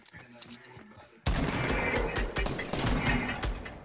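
Gunfire breaks out in Fortnite: after a quieter stretch with a voice, loud rapid shots and bursts of automatic fire suddenly erupt and continue densely and close.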